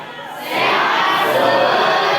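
A classroom of children bursts into loud, sustained cheering and clapping that swells suddenly and keeps going.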